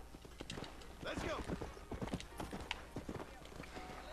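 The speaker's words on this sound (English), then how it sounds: "If I can learn how to drive my horse again." Horse hooves clip-clop at a steady trot in the video game Red Dead Redemption, a quick rhythmic patter mixed with other game sounds while someone talks over it.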